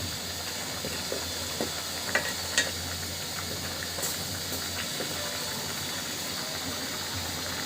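Catla fish frying in a pan, with a steady, even sizzle and hiss throughout and a few faint clinks and taps over it.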